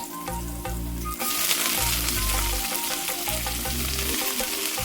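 Chopped spinach hits hot oil in a pan for a Kerala pachadi, giving a loud, steady sizzle and frying hiss that runs throughout, with light stirring and clatter over a low background hum.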